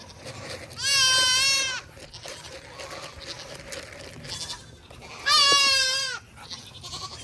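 Goats on a farm bleating, two long loud nasal calls separated by a quieter stretch of faint background noise and rustling.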